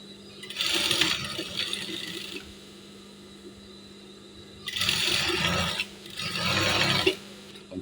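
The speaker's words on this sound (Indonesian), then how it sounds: "Sekarang kita tinggal jahit di bagian furing dalamnya." A sewing machine stitches the inner lining of a women's Korpri uniform in three separate runs of whirring, rasping mechanical bursts, each lasting about a second, with quiet pauses between them.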